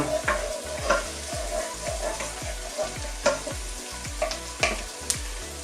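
Butter sizzles in a pan for chicken and chorizo risotto, a moderate crackle under rhythmic stirring strokes and light scrapes, with no talking.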